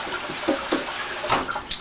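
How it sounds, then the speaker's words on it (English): Cold water runs from a kitchen sink tap over food being rinsed, a close continuous splashing rush with uneven spatters as the food is turned. "So put the cold water on it and you run it through under the sink like this."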